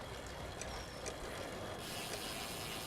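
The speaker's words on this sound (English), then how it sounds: "I love the sound of that rear hub too." The rear hub freewheel of a Canyon Roadlite 7 road bike gives off a fast, steady ratcheting tick while the bike coasts. It is quiet and close over faint wind rush, with no talking.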